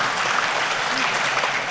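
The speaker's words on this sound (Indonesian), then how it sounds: "Tepuk tangan dong, ini penting buat kita." An audience at the Kadin Indonesia 2025 national leadership meeting applauds, producing a dense, even patter of clapping that holds steady for a brief moment.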